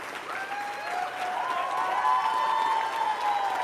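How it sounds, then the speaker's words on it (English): A large crowd claps and cheers loudly after a speech. The roar is continuous and full, with raised voices and whoops riding over the sustained applause. "That is the biggest crowd that has ever fucking clapped for him."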